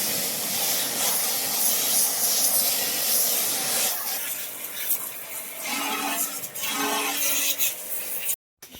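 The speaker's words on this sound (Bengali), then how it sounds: "দেখো জেড পাম্প মারছি তবুও কিন্তু ময়লা যাচ্ছে না।" A jet pump blasts water to clean inside a washing machine during servicing, a loud, continuous spraying hiss that varies in texture and then abruptly cuts off at the end.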